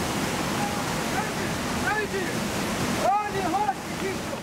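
Floodwater churning and swirling through a narrow gorge inside the Škocjan cave, a dense, continuous roaring rush like a waterfall, loud and enveloping, with faint whistling tones over it.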